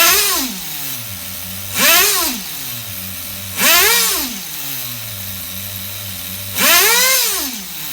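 An HPI RS4 nitro RC car engine on a bench gives four sharp, loud revving bursts that each rise and fall quickly, then drop back to a buzzing idle between them.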